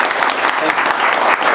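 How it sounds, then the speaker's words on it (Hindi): Trainees at a mobile chip-level repair training session give loud, continuous applause for a classmate, a thick wash of clapping filling the short moment. "एक बार देवदास के लिए जोरदार ताली बजाइए"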